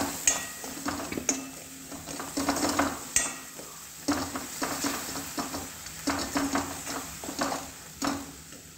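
A spoon stirs a vegetable dish in a pan, giving irregular scraping and clinking strokes over a low simmering sizzle, close by and moderately quiet, with no one speaking.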